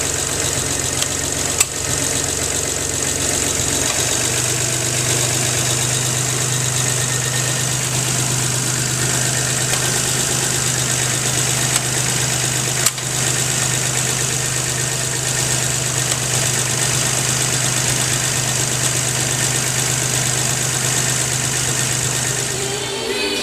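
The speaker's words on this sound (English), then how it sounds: "just fired up the new motor. Just some timing set on it. Runs quiet. It's smooth." A newly installed engine in a 1989 Geo Metro XFi idles steadily and smoothly with an even, quiet hum and a faint mechanical ticking, close by and with no voices over it for the whole stretch.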